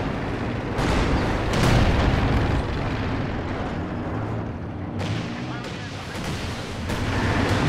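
Land Mattress rocket artillery from Company of Heroes 2 fires in a 2v2 match, heavy booming blasts and crackling bursts rolling in successive waves over continuous battlefield noise, with a commentator talking over it.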